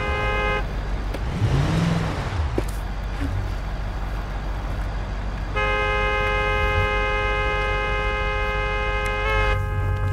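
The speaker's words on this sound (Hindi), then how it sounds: "मारते रहो हॉर्न" Car horns in a mountain driving game played on a Logitech G29 wheel, with a Hyundai Creta, blare in two long sustained honks over a steady engine and road rumble, one brief and one held for several seconds.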